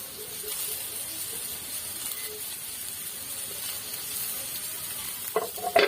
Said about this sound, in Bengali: সবকিছু একসঙ্গে করে ভালো করে ভেজে নেব